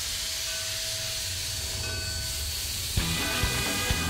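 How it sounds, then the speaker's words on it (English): A train rolls along railway tracks with a steady rumbling hum and hiss, then a sharp change brings rhythmic clanks of wheels over rail joints, close and fairly loud, with no voices. "There is something about a train. The rattle, the hum, the power."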